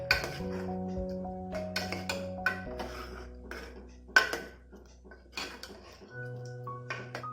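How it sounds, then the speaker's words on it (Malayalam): Cooked toor dal curry of lentils, tomato and onion being stirred in a pot on a gas stove, with scattered metallic clinks and scrapes of a spoon against the pot over steady background music, no talking. "ഒന്നുകൂടി ഗ്യാസ് കത്തിച്ച് നമുക്ക് നല്ലപോലെ ഒന്ന് ഇളക്കി യോജിപ്പിക്കാം"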